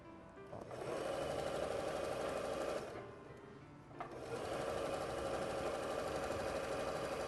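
A sewing machine stitching fabric for a table runner with a standard seam allowance, a steady fast whirring chatter that briefly slows and pauses midway before running on again, close and alone.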